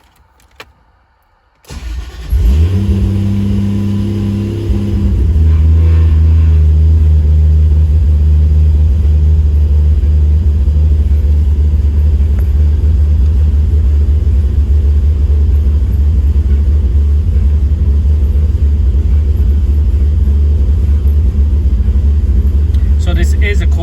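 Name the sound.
MK3 Toyota Supra engine cold start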